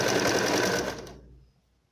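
A sewing machine runs a reverse stitch in one short, close, continuous whirring burst that winds down and stops after just over a second.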